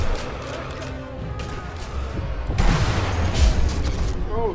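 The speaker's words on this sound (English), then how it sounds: "Oh shit, I shot him into the wall." Gunfire from the video game Sniper Elite V2 booms through a dense, noisy game mix, with a heavier burst about halfway through and a steady rumble of action continuing around it.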